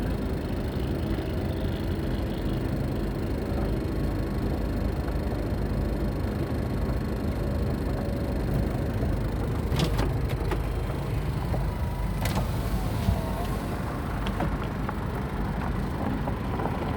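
A car driving along a wide open route through a large pine-lined property, a steady continuous engine and road rumble filling the whole stretch with a few faint rattles, no talk.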